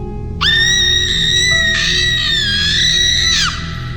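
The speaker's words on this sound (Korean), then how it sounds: "그것이 방울 소리만 남긴 채 기괴한 비명 소리를 내었다." An eerie, drawn-out scream effect, a loud sustained wavering high wail of about three seconds over a low droning background, with no talk.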